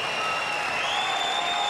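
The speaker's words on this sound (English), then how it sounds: "Big crowd here at the Melbourne Exhibition Centre, and they cheer the boxers on" A large crowd at a Commonwealth Games boxing bout at the Melbourne Exhibition Centre cheers and applauds in a continuous roar with thin whistles on top; no voices stand out.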